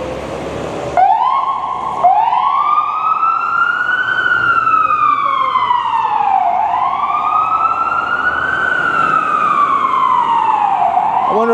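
A fire truck siren on a Toronto street wails in long rising and falling sweeps, loud and close, restarting twice and holding steady throughout, with traffic rumble faintly underneath and no voices.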